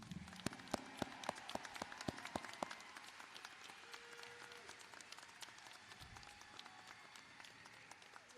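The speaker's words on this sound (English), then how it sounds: "Let's give them a great round of applause." Graduation ceremony audience applauding the high school class of 2020, with dense, steady clapping that opens with a few sharp, loud individual claps before settling into a sustained wash of applause from the crowd.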